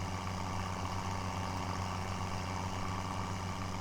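A Case 1455 tractor engine idles in the Farming Simulator 17 video game, a steady low diesel rumble with a constant hum, loud and unbroken, with no talk.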